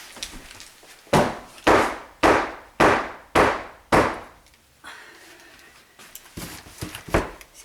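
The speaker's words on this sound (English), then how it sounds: "And I'm just going to bang that down on the floor." A soap mold is banged down hard on the floor in five or six sharp, evenly spaced thuds, followed by quieter, looser knocks and rattles, close by and without talk.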